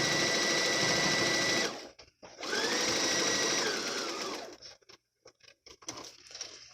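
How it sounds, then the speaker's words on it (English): A sewing machine stitches across the tie at the bottom of a pleated fabric face mask, running in two loud, steady motor bursts separated by a brief pause, then trailing into scattered clicks and handling noise. "then sew across the tie on the bottom"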